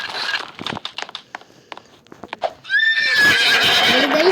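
A horse in the Roblox video game clip-clops along in light, uneven hoofbeats, then lets out a loud, drawn-out neigh with a trembling whinny that carries to the end.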